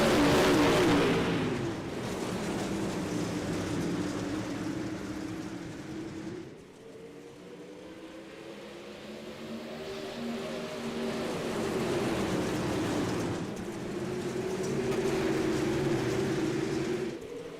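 DIRTcar Pro Late Model race cars roaring around Williams Grove in a heat race: loud engine drones rise and fall as the pack passes, with rising and falling pitches and no talk.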